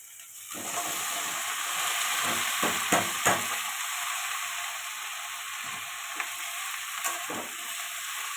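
Vegetables (Malabar spinach, jackfruit seeds, potato) sauté in a pan with fried shrimp and ground shrimp heads for a chorchori, a steady close sizzle broken by several brief stirring scrapes, with no voices.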